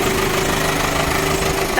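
A mini excavator engine idles while warming up, a steady, close mechanical rumble with a faint rhythmic knock underneath that runs evenly throughout the short stretch.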